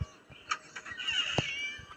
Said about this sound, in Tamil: அந்த பூனை.